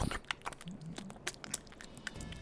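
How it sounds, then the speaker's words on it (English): Chewing Trident orange gum close to the microphone: soft, moist clicks and smacks in an irregular rhythm, faint and intimate, with no talking. "That's the sound of me chewing gum."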